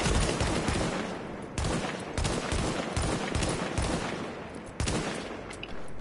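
Gunfire in the video game The Division: dense, continuous bursts of automatic shots with sharp cracks, loud and close, running throughout without speech.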